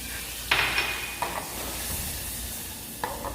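Butter sizzling in a preheated pan at the start of a risotto alla milanese, a soft steady frying hiss with a few sharp clinks of a utensil against the pan, no voices.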